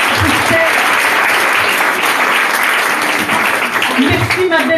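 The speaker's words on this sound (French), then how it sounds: "On applaudit très fort." Loud applause from a live audience at a Toulouse talk on levels of consciousness, sustained dense clapping under cheering and voices throughout.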